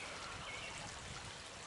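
Water of an outdoor stream running over rocks on a May hike, a constant trickling rush that stays level throughout, close and unbroken, with no one speaking.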